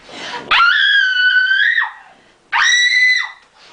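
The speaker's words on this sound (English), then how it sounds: "The woman sprang from the couch with a dreadful, gurgling scream." A woman's dreadful, gurgling scream in two long, loud wailing bursts, each breaking off abruptly, with a brief pause between them and no other sound.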